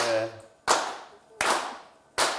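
Applause from a studio audience on a Turkish word game show comes as three sharp, separate bursts of clapping at an even pace, each starting loud and fading quickly, with a brief voice trailing off beforehand.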